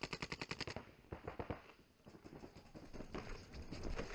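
Paintball markers firing in a rapid string of sharp, close pops at an NXL tournament field, then more scattered shots and a denser burst further off over crowd and field ambience.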